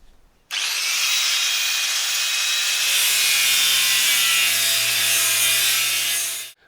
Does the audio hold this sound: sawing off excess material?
yes